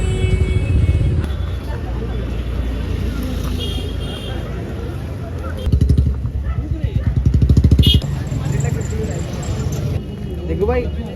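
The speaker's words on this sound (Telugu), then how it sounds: "మస్తు ట్రాఫిక్ ఉంది." Heavy road traffic in Dhoolpet market, Hyderabad, during Sankranti, with motorcycle and car engines revving and passing close by and horns tooting. Voices and crowd chatter run underneath throughout.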